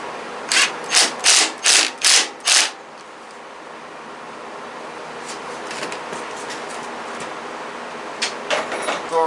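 A ratchet wrench tightens a nut on an old Craftsman riding mower, giving six loud, evenly spaced clicking strokes up close, followed by a quiet stretch and a few softer ratcheting clicks near the end.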